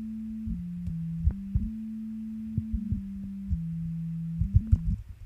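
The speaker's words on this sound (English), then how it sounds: "So what this is just a pretty simple sub bass." A low, pure sub-bass synth tone steps between a few pitches in a simple pattern, with soft clicks at each note change; no voices.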